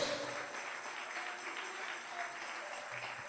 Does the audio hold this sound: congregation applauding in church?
yes